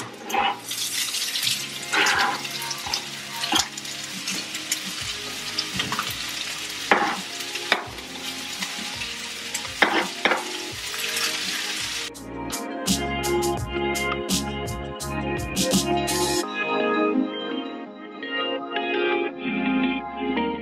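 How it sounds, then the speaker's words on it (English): Sausages and scallion whites frying in a pan while being stirred, busy sizzling with repeated clatters and scrapes of the utensil, shifting midway to a running-water splash and clinks before falling quieter. "As you are stirring your sausages and they start to cook"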